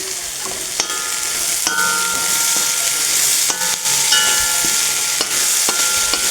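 Onions frying in a pan with salt and turmeric powder, a steady close sizzle with several sharp stirring scrapes and clinks of a utensil; no voices.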